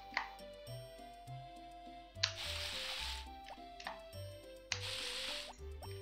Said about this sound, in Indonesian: Oke, kita siram.